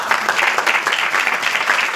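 Applause from a crowd at a religious gathering, dense continuous clapping heard up close and steady for the whole stretch, with no talk over it.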